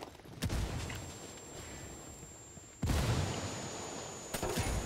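Heavy gunfire and a grenade blast in Ghost Recon Wildlands, a sustained loud burst of shooting followed by a second sharp bang and more shots, close and dense.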